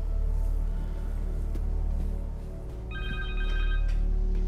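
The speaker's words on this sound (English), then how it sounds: "Her cell phone." Cell phone ringing in the video game Marvel's Spider-Man 2, a short electronic ringtone tone sounding once over a low ambient rumble.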